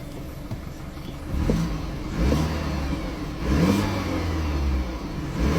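A BMW F30 is driven after a timing chain repair, its mid-pitched engine steadily accelerating and revving through several gear pulls, heard from inside the car with no speech.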